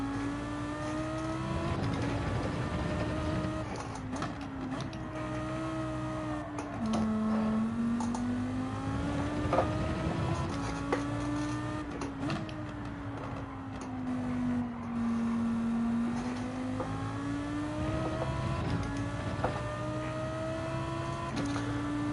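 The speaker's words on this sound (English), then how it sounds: "Just want to spare a moment to listen to this noisy V10 engine roar." In Gran Turismo 7, a GT3 race car's V10 engine roars steadily throughout a long run, its pitch climbing and dropping with shifts and throttle changes, loud and continuous with no talk.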